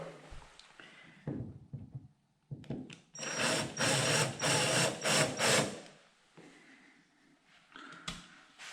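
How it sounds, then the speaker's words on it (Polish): A power drill bores holes into the corners of a hard kitchen countertop cut for an Electrolux induction hob, in short bursts and then a sustained loud whirring grind, close by, with no talking. "najpierw sobie wywiercę e, otwory w narożnikach"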